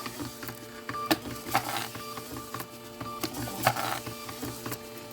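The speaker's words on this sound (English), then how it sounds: "Printing. Gonna make some noise." A printer runs steadily with whirring motor noise and periodic mechanical clacks as paper feeds, moderately loud and close, no voices.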